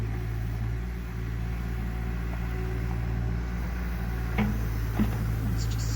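An excavator scoops up loose dirt while levelling ground at a small homestead, its diesel engine holding a steady low rumbling drone at a distance, with a couple of faint knocks near the end.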